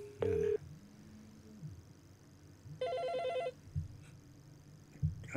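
An electronic telephone ringer at a household Malay-speaking family gathering sounds one clear burst of shrill, warbling tones, close and loud, with brief talk and muffled room noise around it.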